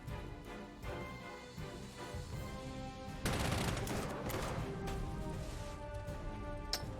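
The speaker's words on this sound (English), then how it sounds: "Gonna have to use the railgun." A railgun fires on an enemy fort in the World War II strategy game Panzer Corps 2, a heavy burst of gunfire sound that swells loudly at about three seconds and rumbles on, with faint battle noise beforehand.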